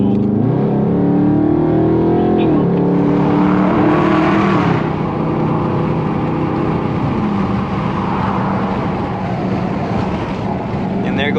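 A Dodge Charger 392 Scat Pack accelerating hard, its engine climbing through rising pitch sweeps with gear changes, loud and close from inside the car, fading into a steadier cruising drone.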